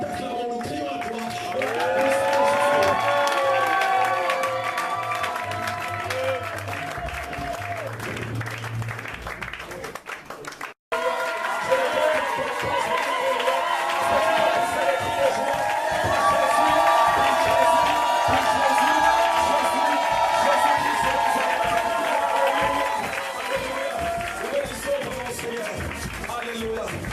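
A church congregation at a 2018 Easter convention in Gabon cheers, claps and whoops in a big, echoing wash of crowd noise, while a leader's amplified voice speaks over it throughout.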